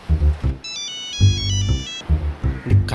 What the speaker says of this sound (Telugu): నీకే ఫోన్ చేస్తున్నట్టున్నాడు.